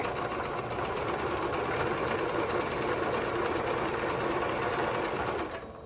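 A sewing machine runs steadily while stitching a seam on high-waisted bummies, a fast, even mechanical whir with rapid needle ticking, close and loud, easing off at the very end.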